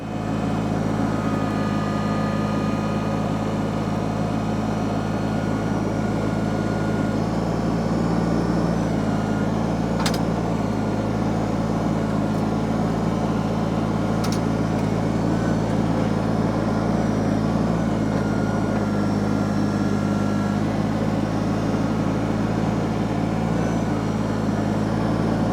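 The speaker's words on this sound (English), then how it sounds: "So I'm going to put the grapple on the tractor, and we're going to try and sift through this mess" A tractor fitted with a grapple attachment works through a pile of debris, its engine droning steadily and loudly throughout with a constant low rumble and occasional brief clanks.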